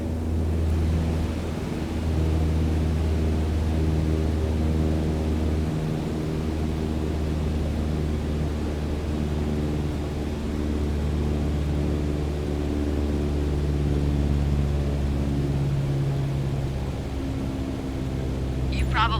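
Single-engine propeller aircraft engine at cruise in Microsoft Flight Simulator, a steady, continuous drone with a low harmonic hum holding evenly throughout, with a voice talking over it.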